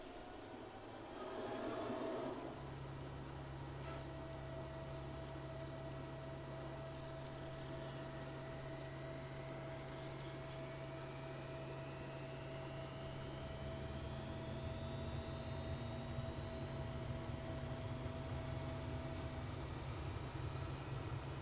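A helicopter engine starting up in Microsoft Flight Simulator 2024 builds from a short click into a steady whine and hum, with faint rising tones that climb slowly as the turbine spools up, heard alone.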